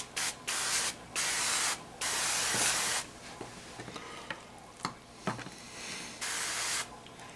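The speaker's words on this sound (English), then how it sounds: "we're gonna spray this with some duck fat." Duck fat sprayed onto pork chops on a grill, several bursts of loud hissing spray separated by short pauses, with quieter sizzling and clinks between them.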